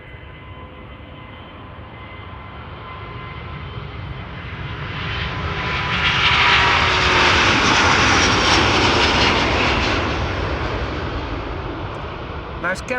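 A Delta Airlines Airbus A330-900neo jet departs with a roar that builds over several seconds, peaks loudly, then slowly fades, with a voice talking over it.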